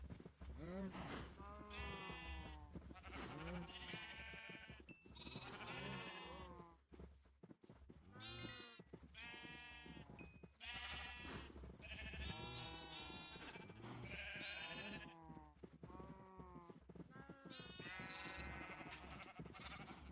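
Repeated sheep bleats from Minecraft farm animals, with a person talking over them throughout.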